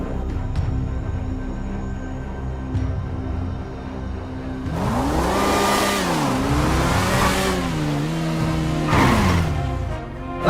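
A motorbike engine idles with a steady hum, then is revved several times, its pitch climbing and dropping in loud, close surges before settling again.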